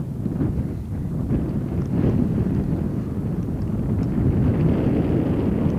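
Strong wind buffeting the microphone on a breezy hilltop in Marin Woods, San Francisco, a constant low roaring rumble with gusty swells, loud and close, no talk.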